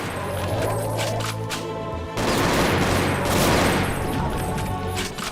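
An AK rifle fires in the Reds Over World Doom mod, with dense loud rapid shots and crashes, first in clipped bursts and then a sustained heavy volley, with no voice over it.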